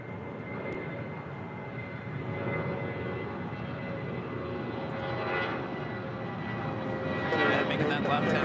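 A United airliner takes off from runway 25 right at LAX, its engine roar steady and fairly loud at a distance, rising slightly toward the end.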